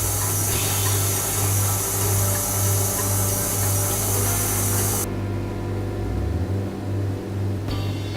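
An electric mixer whips egg whites for meringue in a kitchen, a loud steady motor whir with a pulsing low hum that drops away near the end, no voices.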